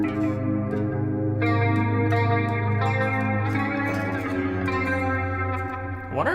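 PRS electric guitar played through a PRS Archon amp on its clean channel, sustained chords and picked notes ringing with reverb and chorus shimmer, steady and close, with no talk.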